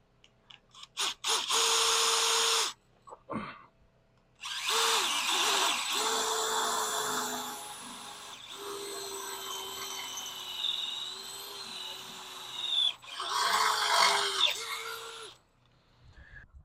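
A power drill boring out holes during a fuel cell install on a Dodge D100 pickup, loud whining bursts of drilling that start and stop, with one long run in the middle and short pauses between.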